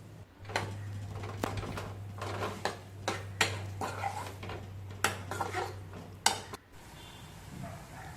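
A ladle stirs bitter gourd curry with water in a pot, giving irregular clinks and scrapes of metal against metal over a steady low hum, with no talking.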